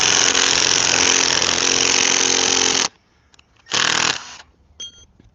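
Power tool boring into a log for a Swedish fire log, a loud continuous whining grind for about three seconds, a pause, then a shorter burst and a few faint clicks.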